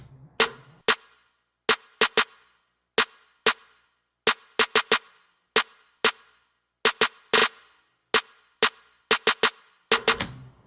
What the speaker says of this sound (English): And my snare goes something like this.